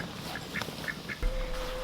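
Ducks quacking in a garden near a pond, a few short quacks at moderate distance over a soft outdoor background, followed by a steady low hum.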